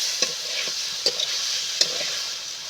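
Eggplant fries in a pan with a steady soft sizzle, broken by three or four sharp scraping clinks of a spatula stirring the pieces.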